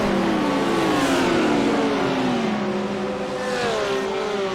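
Several race cars, including a blue Ferrari, accelerate hard across the start-finish line at Road Atlanta, engine notes climbing and overlapping in a loud, continuous roar close by.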